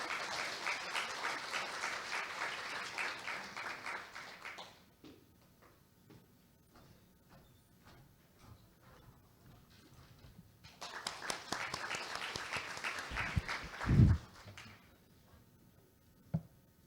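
An audience at an electrical engineering society conference opening ceremony applauds to welcome a speaker, a few seconds of clapping that stops, then a second burst after a quiet pause, with a bump and faint room noise between.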